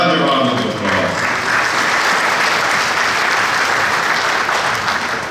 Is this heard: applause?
yes